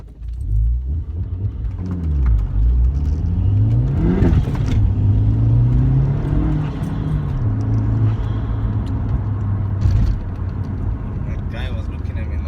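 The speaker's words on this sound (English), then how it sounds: "Second gear takeoff, yeah." Inside a VW Golf mk4 GTI with the 1.8T 20-valve turbo engine, a loud second-gear pull: engine note rises and sweeps upward, then settles into a steady drone with road rumble throughout.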